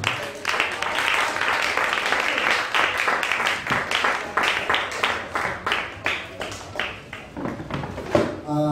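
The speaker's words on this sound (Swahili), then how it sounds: "Ongezea Yesu Kristo makofi." A church congregation applauds together, a sustained burst of many hands clapping that gradually thins into scattered claps.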